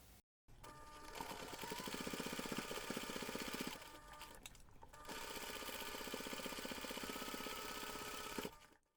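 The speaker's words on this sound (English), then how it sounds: "we're going to take this to the machine and we're going to top stitch along that finished seam" A sewing machine top stitches along a finished seam of a fabric reindeer pencil pouch, running in two steady, loud bursts of rapid mechanical whirring separated by a brief pause.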